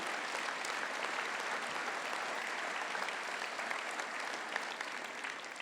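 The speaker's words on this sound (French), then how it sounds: "Je crois qu'on peut encore les applaudir parce qu'ils nous ont fait une prestation de grande qualité." Sustained audience applause for a municipal music school orchestra and choirs at a New Year's greetings ceremony, a dense, even patter of many hands filling the room without pause.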